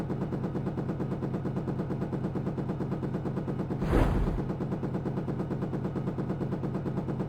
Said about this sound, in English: When you get lined up, fire a rocket.